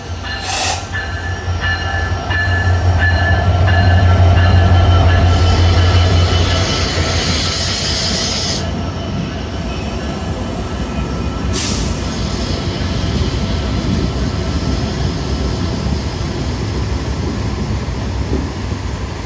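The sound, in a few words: Rupsha Bangla Express intercity train with locomotive 66-38 entering Bhanga Junction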